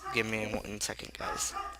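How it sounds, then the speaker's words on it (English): Pet dogs barking indoors, a few sharp yips and woofs mixed in behind a person talking close to the microphone. "Sorry about my dogs."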